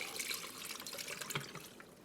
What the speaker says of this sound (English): And now we pour in the marinade.